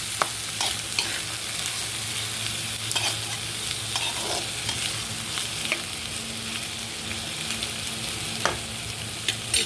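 Small bitter gourds fry with salt in a pan, a steady broadband sizzle running throughout with scattered scraping stir clicks from a utensil, close and fairly loud with no voices.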